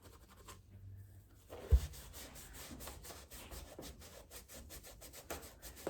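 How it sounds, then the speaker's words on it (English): A wipe is rubbed back and forth along the dirty edging and canvas of a shoe, a close, steady scrubbing friction with a sharp knock partway through, no talking. "you just pull out a wipe and I'm gonna go over the edging here, try to get some of that dirt off"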